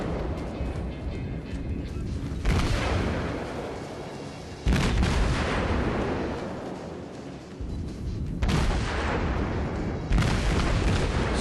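Warship main guns firing in World of Warships: repeated heavy booming salvos, several sharp onsets each followed by a long rolling rumble, loud and continuous over a steady low drone, no talk.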